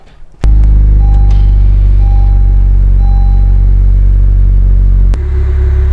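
A 10th-gen Honda Civic Si engine starts abruptly with a loud catch, then settles into a steady, close-up idle rumble that dips slightly as the e-brake is released near the end.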